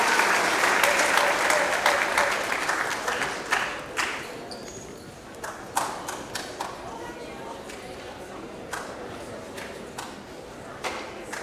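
Applause for male athletes at a school sports awards ceremony, loud at first and then fading to scattered individual claps.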